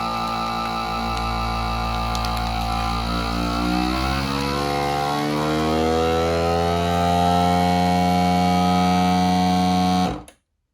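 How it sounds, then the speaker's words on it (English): A FoodSaver FM2100 vacuum sealer motor hums and whines with rising, shifting harmonics for about ten seconds, then cuts off abruptly into silence. "And then I'm going to hit the vacuum seal."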